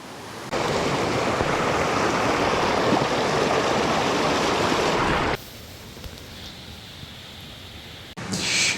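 Steady broadband rush of flowing water from a mountain stream, loud and close for several seconds, then dropping to a softer background wash with some wind noise.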